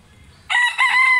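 A Jabao rooster lets out a single loud, close crow that breaks in abruptly after a moment of quiet and carries to the end, briefly dipping between phrases.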